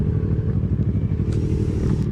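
A motorcycle rides hard through a sharp bend on a road, heard on a played video. It gives a loud, rough engine drone with some clatter, steady and close throughout.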